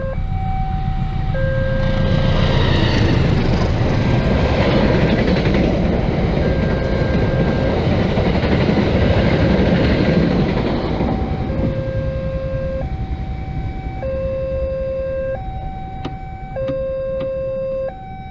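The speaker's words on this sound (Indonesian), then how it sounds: "barusan ada kereta guys" A train roars past with a heavy, continuous rumble, and a two-tone warning signal keeps alternating as the noise fades.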